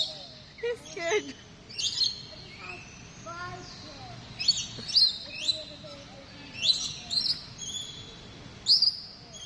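Lorikeets chirp and squawk in bursts around a bird feeding area at Bird Kingdom in Niagara, sharp repeated calls close by over a busy background of softer chatter, with voices talking faintly underneath.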